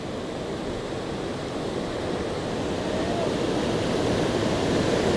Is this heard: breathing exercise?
no